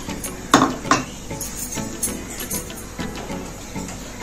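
A spoon stirs sugar into custard in a metal pot, with a couple of sharp clinks against the side followed by softer, irregular scraping taps, close and fairly quiet.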